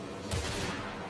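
Gunfire in the horror game Alan Wake 2, a sudden loud crack followed by a short rumbling burst that decays over about a second, alone with no talk.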